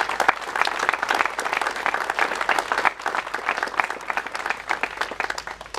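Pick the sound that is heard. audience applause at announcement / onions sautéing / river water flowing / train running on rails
audience applause at announcement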